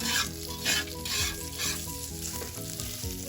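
Smoked pork steak frying in butter in a pan, a constant close sizzle with gentle scraping as the meat is worked around, soft pulses of stirring roughly every half second, no voices.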